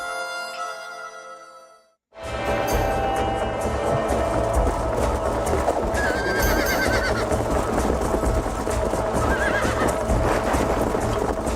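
A horse in the Red Dead Redemption game gives a whinny before a short silence, then hooves clip-clop steadily over a dense rumbling game soundscape with a few more faint neighs.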